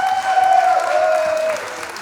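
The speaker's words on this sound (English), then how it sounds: "Please give a round of applause for everybody that you came out to see, the new graduate class." Brief burst of live audience applause for a comedy graduate class at a stand-up show, a dense wash of clapping under a sustained tone, fading after a couple of seconds.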